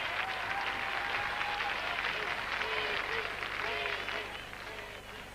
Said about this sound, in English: The Bulgarian crowd going absolutely wild.